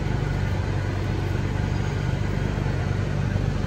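A Chrysler 300 engine idles steadily after an oxygen sensor replacement, a continuous low rumble with a smooth, even hum that holds at a constant level throughout, with no speech.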